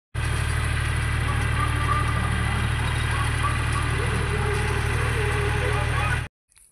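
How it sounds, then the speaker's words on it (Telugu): A tractor engine runs steadily while baling hay in a field, making a loud, constant low droning rumble with mechanical vibration for about six seconds before it stops abruptly. "ట్రాక్టర్ ఓని గడ్డి కట్టలు కడుతుంది"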